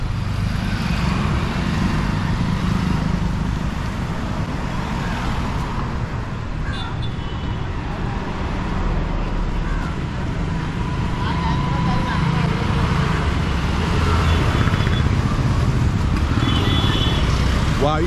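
Motorbikes and cars stream past along a busy one-way shop street in Chennai, a constant loud roadway rumble with passing engines, while a voice talks over the traffic.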